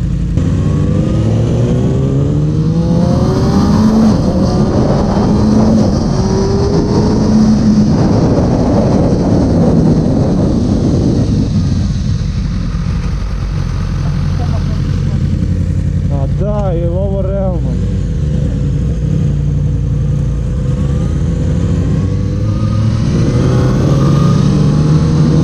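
A 2019 Yamaha R6 sport motorcycle engine runs steadily throughout a ride, loud and close with rising and falling pitch, while people talk over it.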